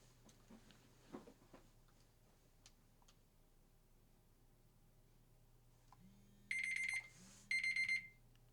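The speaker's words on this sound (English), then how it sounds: "that's my timer" A digital kitchen-style timer beeps in two short bursts of rapid electronic pulses, loud and close, after a stretch of quiet room tone with faint handling noises.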